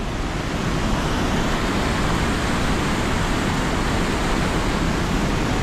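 Powerful water pours through three opened gates at the Varkhede Londhe barrage, a thick, steady roar at full loudness from start to finish, with no speech.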